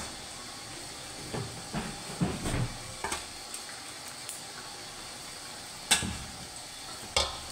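Shrimp frying in hot oil, a steady soft hiss under scattered sharp pops and crackles, with a few louder spits standing out near the end.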